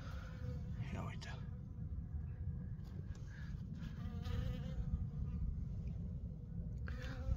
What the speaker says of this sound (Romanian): Albinuțele sunt la apă.